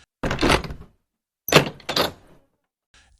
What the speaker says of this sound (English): Doors creak open and close without any apparent cause.